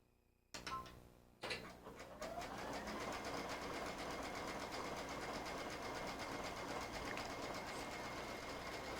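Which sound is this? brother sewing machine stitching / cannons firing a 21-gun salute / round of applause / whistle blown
brother sewing machine stitching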